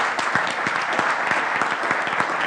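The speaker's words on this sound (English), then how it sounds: "round of applause." A round of applause from a conference audience at a startup event, dense and steady clapping heard close and continuous with no talk.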